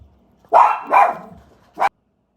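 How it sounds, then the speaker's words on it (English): Dogs barking indoors at a house, two loud close barks in quick succession followed by a shorter sharp yap, then silence. "every time there's a noise, my dog and that dog both want to bark"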